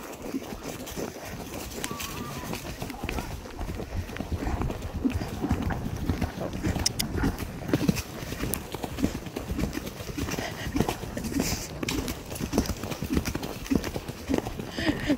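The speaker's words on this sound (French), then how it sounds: "On peut se faire un petit galop." Horse hooves at a canter, a rapid, fairly even run of soft thuds on ground continuing throughout at moderate distance, with faint background noise and no clear talk.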